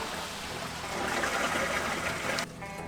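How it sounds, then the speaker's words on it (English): An RV black tank drains in a steady, close rushing gush of water that stays even for a couple of seconds, then drops suddenly to a softer trickling flow. "we are going to drain the tanks"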